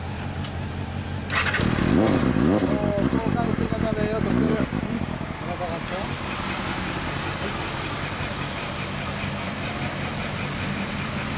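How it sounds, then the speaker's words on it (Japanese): A 2002 Honda Hornet 250 motorcycle with a TSR racing muffler cranks and fires up, gives a few sharp revs, then settles into a steady, throaty idle close by while people talk briefly over it. "オッケー、エンジン音聞かせてもらえるかな。"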